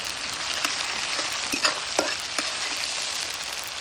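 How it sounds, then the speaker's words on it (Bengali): Chopped onion sizzles in hot oil, a steady broadband frying hiss with a few soft clicks of stirring scattered through, close and continuous with no voices, for a village-style Bengali fish dish. "পেঁয়াজ কুচি তেলে দিয়ে দিচ্ছি। পেঁয়াজটা একটু ভালো করে ভেজে নিতে হবে।"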